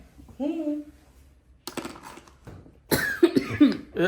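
A person coughs indoors, a few sharp bursts in quick succession, near and fairly loud, with soft clinks from small objects around them.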